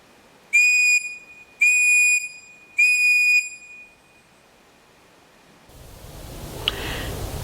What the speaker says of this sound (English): We're going to use 3 short blasts and see if we can hear him.